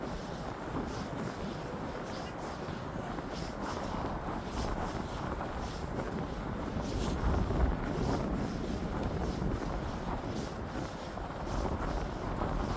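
Steady wind buffeting the microphone outdoors in snowy weather in Canada, a continuous rough rumble that swells slightly midway, with no voices.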